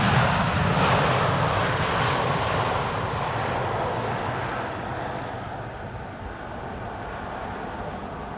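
A KLM Boeing 787-10 arriving on Polderbaan runway 18R on a misty morning, a loud broad jet engine roar that slowly fades as it passes, no talking.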